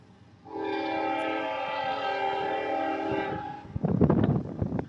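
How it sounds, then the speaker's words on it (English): A CSX freight train horn sounds one long, steady chord, then the rumble and clatter of rail cars passing close by takes over, at Madisonville, Kentucky. "It's a freight train."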